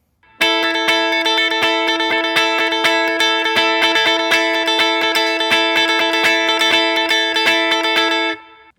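An electric guitar plays the lead line of a song as a steady run of quick picked notes over sustained ringing tones, continuous and loud for about eight seconds, then stops.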